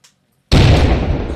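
Grenade detonation in the military shooter Arma 3: a sudden, loud, close blast breaking out of near silence, followed by a long rumbling decay that stays dense and heavy to the end.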